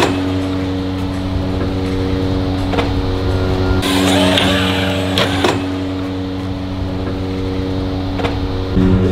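A Traxxas RC monster truck drives around a skatepark, its electric motor giving a steady close whine with rising and falling revs and a brief louder rushing burst in the middle.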